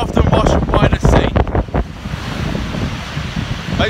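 Large sea waves crash against the shore at Selsey while strong wind buffets the microphone, loud rushing surf at first, then easing into a steadier wash of water and wind.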